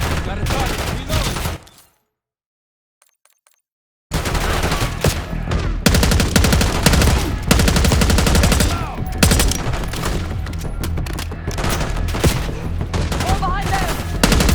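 Sustained machine gun fire in the video game Call of Duty Black Ops 6, dense loud bursts running almost continuously, broken by a two-second silent gap, with game voices and effects mixed in.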